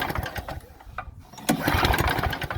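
A small chokeless lawn mower engine is pull-started and catches, running with a steady close putter after a brief pause partway through the clip.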